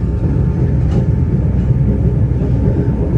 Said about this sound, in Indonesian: kereta api Kaligung tiba di stasiun Pekalongan